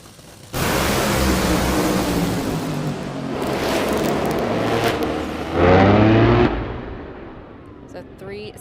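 Josh Hart's drag racing car making a single pass down the left lane at Bradenton Motorsports Park, a sudden loud roar that holds and swells before fading away, heard over the track PA.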